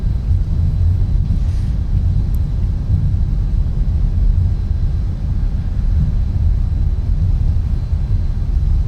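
Boeing 747-8F engines roaring in reverse thrust on the landing rollout, heard from the flight deck in a flight simulator: a steady, loud low-frequency rumble that holds level throughout with no speech.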